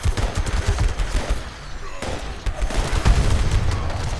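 Rapid, continuous automatic fire from the Furious Pepper Shaker in Fallout 76, dense bursts of shots running almost unbroken from start to finish, loud and close with a short lull partway through.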